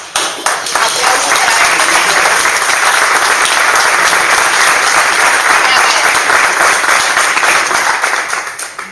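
An audience at a retirement home event in La Unión applauds warmly: dense, steady clapping from many hands that holds for about nine seconds, then tapers off at the very end.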